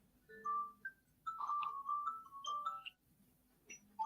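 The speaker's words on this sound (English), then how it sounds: "Whose alarm's going off on their phone?" A phone alarm rings in short chiming melodic bursts with gaps between them, fairly clear against a quiet room.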